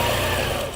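A quilting sewing machine with a stitch-regulating glide feature runs slowly in manual mode, making a steady, continuous motor whir with fine stitching texture, close and moderately loud, no talking.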